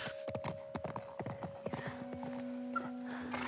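Horse hooves from The Last of Us TV series clop in a quick galloping run, sharp distinct strikes that thin out before a sustained tone takes over.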